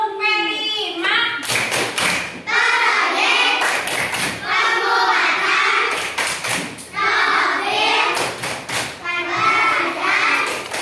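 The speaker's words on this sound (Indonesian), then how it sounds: "Biar kalian lebih semangat, kita harus tepuk dulu" A classroom of children claps their hands in loud, rhythmic patterned bursts that repeat several times, with voices chanting and talking between and over the claps.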